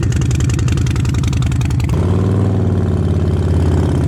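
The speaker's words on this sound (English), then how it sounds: "Just listen to that exhaust note." A Harley-Davidson Fat Bob fitted with the Screaming Eagle 117 engine and exhaust pulses loudly and nearby with a deep, rhythmic thumping note, then settles into a smoother, lower drone about halfway through.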